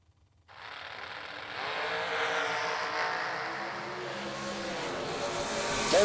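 A pair of drag race cars launch at a drag strip, engines erupting abruptly into a loud, sustained roar that stays near and grows slightly toward the end, with no talk over it.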